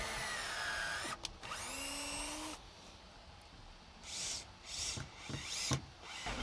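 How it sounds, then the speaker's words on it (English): A power drill whirs in two bursts while drilling a hole in a door jamb, the second winding up and slowing, followed by quieter knocking and handling sounds. "Now I'm going to drill a hole, put in another screw."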